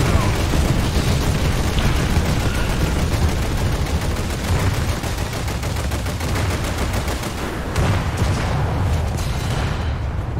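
Naval guns in a video game keep firing in rapid rattling volleys with heavy booms over a continuous roar, loud and sustained for about ten seconds.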